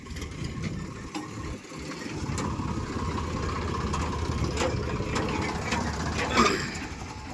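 A low, steady tractor engine idles nearby at a garbage dumping site, with faint mechanical rattles and clanks over the rumble.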